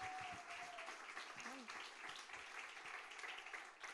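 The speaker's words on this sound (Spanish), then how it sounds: "Un aplauso al Señor en esta noche." Church congregation clapping during an evening Spanish-language worship service, a fairly faint, continuous wash of applause with a brief tonal voice-like sound partway through.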